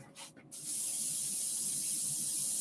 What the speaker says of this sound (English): I'm going to be doing some, not airbrushing, but airbrush cleaning